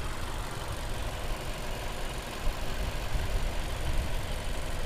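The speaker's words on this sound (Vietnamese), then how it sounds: "Máy đang nổ." A 2015 Mazda 6 with the 2.5-litre engine idles with the hood open, giving a steady, close mechanical hum and low rumble with even vibration and no talking.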